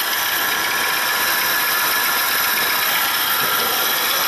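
A Honda car engine with a bad bearing gives a steady, loud whirring drone much like a floor polisher, running unbroken and close throughout with no talk.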